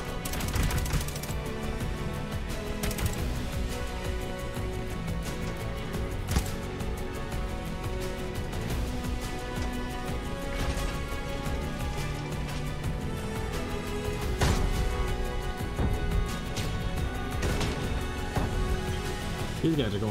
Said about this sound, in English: These guys are going hard in the nades.